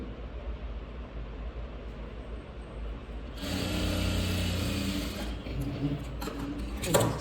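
A sewing machine runs steadily, stitching smooth blouse fabric to give a neat finish. The motor hum comes in partway through, fairly close and continuous, with small shifts in pitch and a few clicks toward the end.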